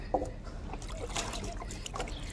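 Water is poured into a tub to soak new clothes, giving a steady, close trickle and splash that runs the whole time with no voices.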